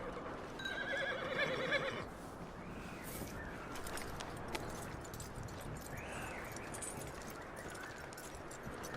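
A horse in the Red Dead Redemption 2 video game gives a loud, clear whinny in the opening two seconds, followed by steady outdoor game ambience with faint movement.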